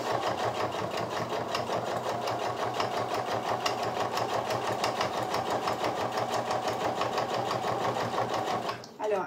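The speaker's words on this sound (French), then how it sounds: "Et je viens coudre tranquillement sur toute la longueur." A sewing machine stitches along a length of fabric with a rapid, steady mechanical rattle that runs continuously and stops abruptly at the end.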